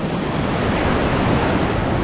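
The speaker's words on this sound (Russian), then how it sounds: "здесь ближе к берегу волны такие, знаете, с песком" Ocean surf rolls in near a sandy shore as a steady, loud, continuous wash of breaking waves, mixed with wind buffeting the microphone, with no voices.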